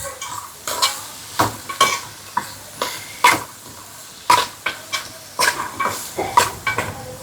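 A spoon scrapes and knocks rhythmically in a pan as vegetables and onion sauté, sharp close clinks repeating about twice a second over a soft steady sizzle.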